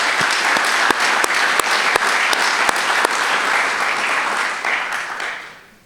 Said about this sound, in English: we want to give each of you a round of applause